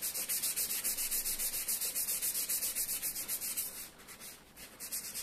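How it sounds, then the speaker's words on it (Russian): Sandpaper scuffing leather filler on a car's leather upholstery during repair: steady, rhythmic back-and-forth strokes, close and fairly loud, briefly easing off near the end before resuming. "Берем наждачку и хорошенько это место шлифуем."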